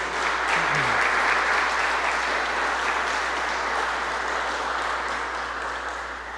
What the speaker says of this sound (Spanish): Denle un aplauso a Jesús, bendiga su nombre.